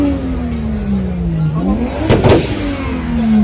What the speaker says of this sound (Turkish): BMW yine egzoz patlatmaya devam ediyor